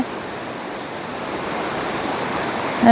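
A swollen river rushes in a dense, steady roar, loud and close, with no voices over it.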